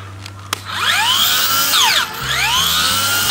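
High-pitched whine of a small cordless electric grass trimmer motor revving up and down in sweeping surges, close and loud, briefly easing off before spinning up again.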